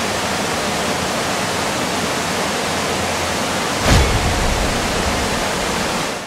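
At a cloth factory, water rushes through a weir toward a water turbine as a dense, steady roar, with a single low thud partway through.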